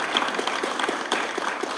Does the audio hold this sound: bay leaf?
no